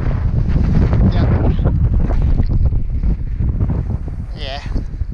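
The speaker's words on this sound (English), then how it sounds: "I don't want to risk it in this wind anymore. Yeah, now it's getting gusty." Strong gusty wind blowing across an outdoor drone flying field, a loud continuous rumbling roar buffeting the microphone throughout, with people talking underneath.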